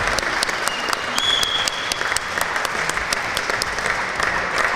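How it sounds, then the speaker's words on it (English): A 2011 LCBMIT graduation ceremony audience claps steadily and loudly, a dense, sustained wash of hands with a few voices faintly mixed in, filling the hall without pause. "one final round of applause"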